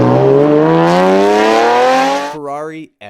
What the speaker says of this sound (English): Ferrari F50.